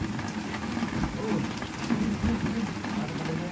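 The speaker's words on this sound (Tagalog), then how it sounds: "Ayan o, lakas ng ulan." Heavy rain pours steadily on a fishing boat out at sea, a dense, continuous hiss and patter with a low rumble underneath, loud and unbroken throughout.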